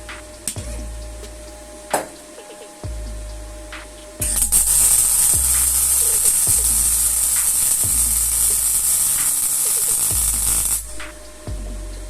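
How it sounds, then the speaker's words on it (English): Crackling, buzzing arc of a Stahlwerk MIG200ST MIG welder welding thin steel, running steadily for several seconds, preceded and followed by short bursts and low thumps, close by. "And then let's try and weld this."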